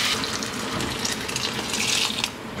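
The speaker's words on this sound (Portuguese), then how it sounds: "Agora eu vou colocar a água." Boiling water poured onto lentils in a home kitchen pot, a steady splashing gush that runs continuously and fairly loud from start to finish.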